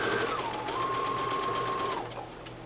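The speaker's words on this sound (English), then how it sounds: "Now in needle down position, I'm going to stitch right along the edge of this fold that we pressed down." A sewing machine runs steadily, stitching along the edge of a pressed fold on gaucho pants, with one smooth, close, quiet run lasting about two seconds before it slows and stops.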